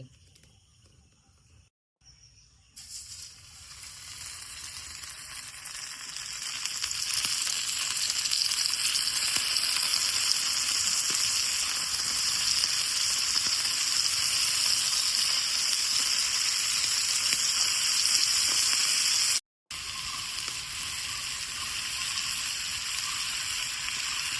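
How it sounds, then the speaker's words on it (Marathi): Bombil fish frying in oil on a tawa, a steady loud sizzle that builds after a quiet start and keeps hissing continuously, with a brief dropout near the end. "तर आता ह्या तव्यावर मी तेल टाकून घेत"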